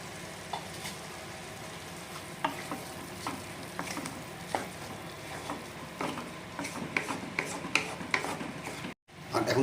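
Potatoes stir-fried with spices in a pan for shol fish curry, a steady sizzle broken by repeated scraping strokes of a spatula, close and moderately loud, with a brief dropout near the end.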